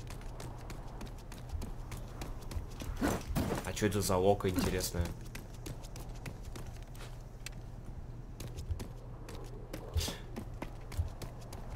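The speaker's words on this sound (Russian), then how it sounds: "Кони пробиваются." Horse hooves thud along in the RAGE 2 video game, a steady clip-clop of galloping steps under a man's soft-spoken commentary, with a louder burst of game noise partway through.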